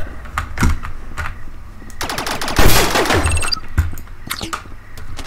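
Rapid gunfire crackles in the Rec Room video game, a loud dense burst of shots in the middle with scattered single clicks and reports before and after.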